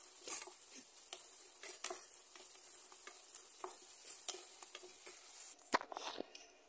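Rice fries with spices in a pan, giving a quiet continuous sizzle broken by repeated stirring scrapes and a few sharper clinks near the end.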